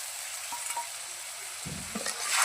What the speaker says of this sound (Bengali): এখন মশলাটাকে ভালোভাবে কষিয়ে নেব।